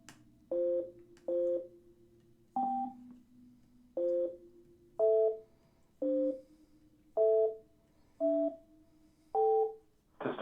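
Automated telephone system tones on a radio show call-in line: ten short, evenly spaced two-note beeps, the pitch varying from beep to beep, heard alone over a faint low hum.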